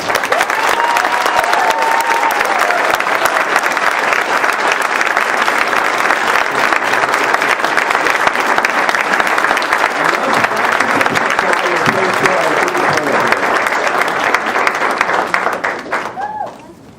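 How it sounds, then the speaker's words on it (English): Audience at a city council meeting applauds a group of students, a loud, sustained burst of clapping from a full room that holds steady for many seconds before fading out. "let's give a round of applause to all these students"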